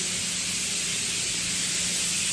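High-pressure spray from a pressure washer hissing steadily inside an underground concrete tunnel beneath a newly built auto manufacturing plant, a dense continuous roar with no pauses and no talking.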